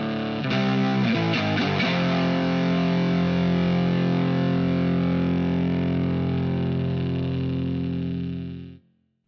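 Heavily distorted electric guitar plays a short run of power chords, then rings out on a long sustained chord that fades and cuts off.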